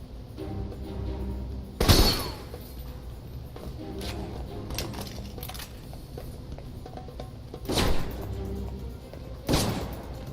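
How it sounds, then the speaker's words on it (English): Weapon crates being smashed in Alpha Protocol: three sharp breaking crashes with splintering debris, spaced several seconds apart, over a low ambient rumble and faint scattered clicks. "I'm gonna see if I can destroy these crates before they get shipped out."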